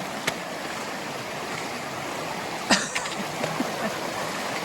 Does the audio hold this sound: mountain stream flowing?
yes